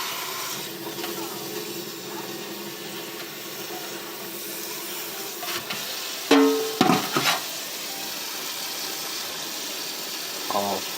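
Water rinsing a heavily soiled K&N cone air filter from a 2000 Camaro, a steady hissing spray with brief louder splashes near the middle and end.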